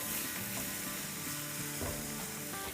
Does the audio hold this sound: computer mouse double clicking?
no